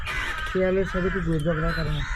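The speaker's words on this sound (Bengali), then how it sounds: "ঘুম ভেঙেছে পাখির ডাকে, অনেকদিন পর কাক ডাকা, ভোর" Crows caw at dawn on Char Hare island, with a few rough, drawn-out calls close by against a background of other birdsong, and a voice speaks over part of it.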